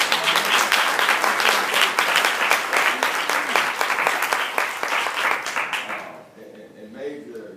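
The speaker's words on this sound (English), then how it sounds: "We're going to give them a big round of applause" An audience at a faculty meeting bursts into loud, dense clapping that holds steady for about six seconds, then quickly dies away to quiet room tone with a few faint trailing sounds.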